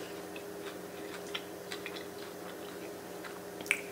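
Crunchy vegan bang bang shrimp coated in sauce being chewed, quiet scattered crisp bites and crunches near the mouth, ending with one sharper click.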